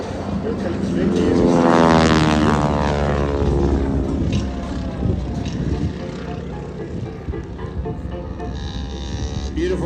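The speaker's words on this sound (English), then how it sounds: "much of the sound that you hear, is the sound generated by the propeller tips breaking the sound barrier" A Stearman PT-17 biplane roars past overhead during airshow aerobatics, its buzzing engine note rising to a loud whine from the propeller tips and then sliding lower as it pulls away.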